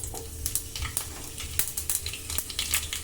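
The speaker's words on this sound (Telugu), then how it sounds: "నూనె వేడయ్యాక అందులోకి 1/2 టీ స్పూన్ వరకు ఆవాలు వేసుకోవాలి. అలాగే 1/2 టీ స్పూన్ వరకు జీలకర్ర, ఎండుమిరపకాయలు," Mustard seeds, cumin and dried red chillies crackle and sizzle in hot oil for a cucumber chutney, a steady close frying hiss scattered with small popping bursts.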